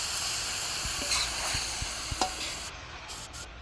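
Carrots are stirred into Guyanese chicken cook-up rice in a pot. Soft scraping strokes sound over a steady low sizzle, with no voices.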